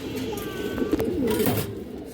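A female pigeon and other pigeons coo nearby in low, rolling calls, with a brief rustle partway through and no talking.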